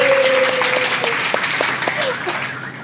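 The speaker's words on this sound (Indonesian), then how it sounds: "Tepuk tangan dulu dong." A crowd claps for a guest footballer introduced on stage, a lively spread of applause with individual sharp claps standing out, while a faint tonal sound sits underneath and fades.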